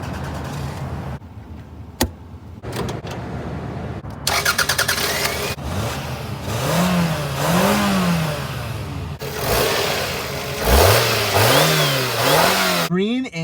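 A 1997 Toyota Camry LE engine starts up close by, then revs in two rising-and-falling surges over a low idle, with some indistinct cabin noise at the start.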